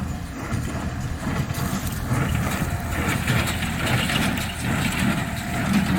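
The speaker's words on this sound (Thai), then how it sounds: "เครื่องอัดฟางแม็กซี่224 ครับ" A Maxi 224 hay baler's engine runs continuously nearby, a loud, steady low idling drone with rough mechanical texture and no pauses.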